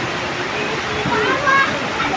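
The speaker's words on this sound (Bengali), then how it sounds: "আর এত পরিমাণ বৃষ্টি দেখেন স্রোত করতেছে দেখেন" Heavy rain and a strong current of floodwater rushing beneath a bypass flyover make a dense, continuous roar, close and loud, with a voice talking over it.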